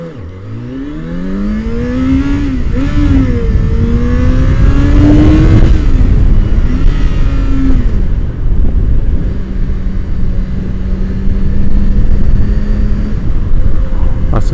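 Yamaha XJ6 motorcycle engine pulling hard through a 0-60 run, loud and close, its pitch climbing, dropping at a gearchange and climbing again, then holding a steady drone.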